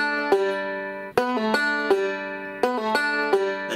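Banjo playing a Salt Creek bluegrass lick with an open pull-off on the third string, bright plucked notes in quick clustered runs with short gaps, close and clean with no talking.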